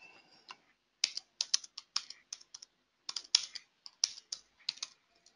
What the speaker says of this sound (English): I'm then just going to type in one, hit a space bar